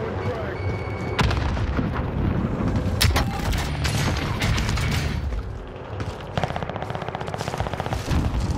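Frag grenade blast in a video game's chaotic firefight: sharp booms ring out amid continuous rattling gunfire and crackling bursts, loud and dense throughout, with faint voices mixed underneath.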